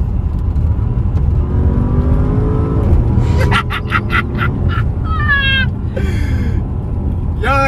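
A new Porsche on a test drive revs hard through its gears, the engine climbing in pitch and then dropping as it downshifts. Steady road and cabin rumble run underneath the engine note.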